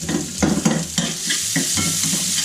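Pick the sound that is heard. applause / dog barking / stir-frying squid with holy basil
stir-frying squid with holy basil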